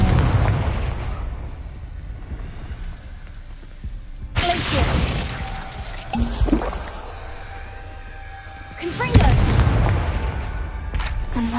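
Confringo spell blasts in a wizarding video game fire off as a couple of loud, sharp explosive bursts with crackling tails, separated by quieter rumbling ambience.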